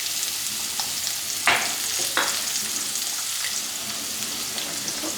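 Onions sauté in a pan with turmeric and ginger garlic paste for a fenugreek leaf curry, a steady close sizzle with a few sharp stirring knocks.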